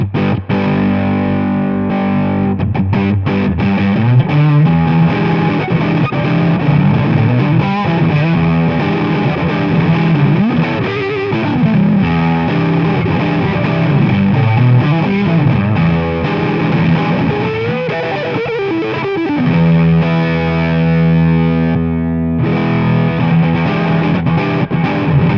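An electric guitar runs through the WAT Ranges overdrive pedal with its bass bump engaged, playing thick distorted chords and riffs with a full low end, loud and continuous without talk.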